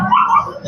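A small dog at the Grotto pet market in Bulacan gives a short whimpering yip, close by, with market noise around it.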